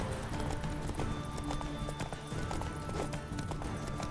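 Horse hooves clip-clop in The Witcher 3 video game, a quiet, steady run of hoofbeats over a continuous background of game noise.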